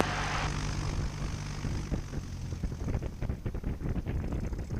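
A Cessna 172 Skyhawk taxiing at Santa Monica, its propeller engine droning steadily up close with wind buffeting and rattling chops throughout.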